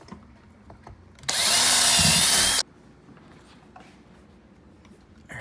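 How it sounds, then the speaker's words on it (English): A power drill boring a pilot hole through a wooden kitchen cabinet light rail, one loud high whine lasting just over a second, set between quiet handling sounds. "So I'm gonna drill the pilot holes through the light rail."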